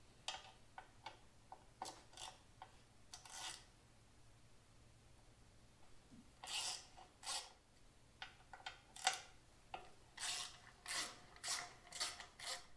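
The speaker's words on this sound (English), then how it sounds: "you're actually going to be removing these two bolts right here, and they're actually going to be 1/4 inch Allens" Hand tools work on a Harley-Davidson EVO engine as 1/4 inch Allen bolts are loosened, giving sparse ticks and scraping clicks that gather into quick rhythmic metallic rasps, close up and without talk.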